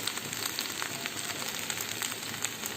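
Coriander and cumin powder sautéing in oil in a pan, giving a steady close sizzle with a crackly hiss that runs evenly throughout, no voices present.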